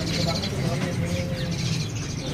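Small caged songbirds at a bird-market kiosk chirp and tweet in quick repeated bursts, with a thin sustained whistle, mixed into steady market background noise.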